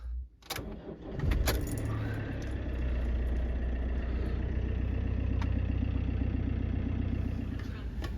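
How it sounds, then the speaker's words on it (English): A car engine cranks and catches on a cold day, then settles into a steady, loud idle rumble that runs close by for several seconds, with a faint jingle of keys near the start. "because it's so cold, I'm going to start the engine as well"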